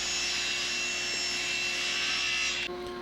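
A saw cuts through 3/4 inch birch plywood in one continuous, steady, close whine with a grinding edge that holds for most of the clip and then drops off abruptly near the end. No one speaks.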